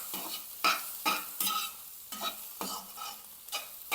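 Scrambled egg frying in a pan, with crisp, rhythmic spatula strokes about twice a second over a light sizzle, close and with no voices.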